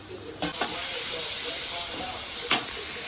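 Tomatoes go into a hot pan of oil for a spicy South Indian crab curry, setting off a loud steady sizzle and hiss, with a couple of sharp clinks from a spoon or utensil against the pan.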